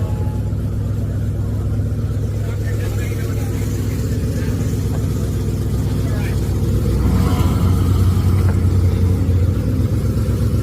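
Steady mid-pitched idle of a car's 5.7 Hemi V8 at an outdoor collector car auction, continuous and close, with a slight rev swell past the midpoint and a voice over the engine.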